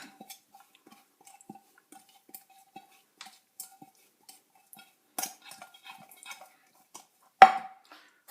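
A metal pan is handled and oiled with sparse, faint clinks and taps spread out over quiet, then one sharper clank near the end.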